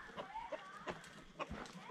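Many chickens on a small farm near Várzea Grande clucking in short, quiet bursts, several overlapping calls close by.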